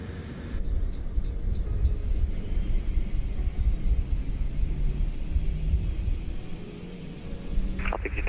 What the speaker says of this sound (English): Firing up the APU.